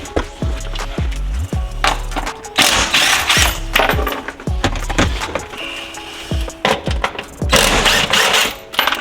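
Repeated ratcheting clicks and sharp metallic taps nearby as 12mm bolts are loosened from the rear seat back piece of a Lexus SC300, in bursts with short pauses between.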